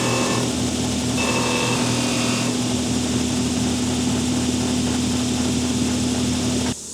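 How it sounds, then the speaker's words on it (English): Steady, loud whir of a sander grinding burrs off a freshly cut metal end held against a 1-2-3 block, running continuously before cutting off sharply at the end. "I come over to the sander, and then I'm still using that 1-2-3 block, cleaning off all the burrs"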